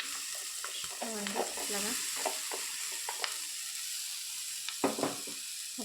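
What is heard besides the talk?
chopped pieces added to pan, frying and stirring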